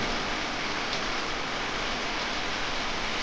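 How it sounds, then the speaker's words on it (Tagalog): Steady rain falls in the Philippines, a dense, even hiss of downpour that holds constant throughout with no talk over it. "Maulan."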